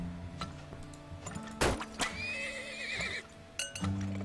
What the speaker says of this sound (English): Come on, horses, come on,